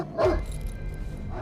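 Patrol guard's tracking dog in a film scene lets out one sharp, close bark, then quiet background remains.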